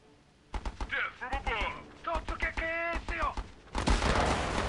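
Rapid gunfire and heavy shots ring out in the video game Battle Islands Commanders, a burst of sharp cracks followed by a loud sustained barrage, with people talking over the opening shots.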